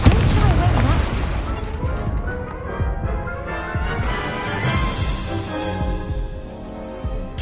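Incendio fire spells cast in the video game Hogwarts Legacy roar in a dense, loud wash of flame and repeated booming impacts that runs without pause from start to finish.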